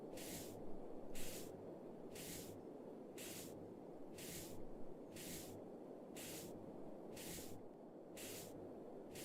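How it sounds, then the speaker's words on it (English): Repeated bursts of white spray paint hiss from an aerosol can in regular pulses, about ten short blasts over a steady low background hum. "So just giving it a good blast. Spray it white."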